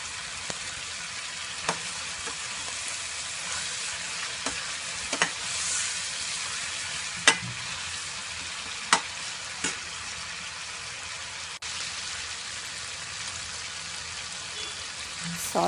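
Tamarind fries in a pan for tomato thokku with a soft, continuous sizzle and hiss, broken now and then by sharp clicks and scrapes of stirring.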